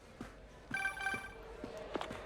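Phone ringing in the video game Spider-Man PS4, a bright electronic ringtone sounding in short repeated bursts over light footsteps and background game ambience.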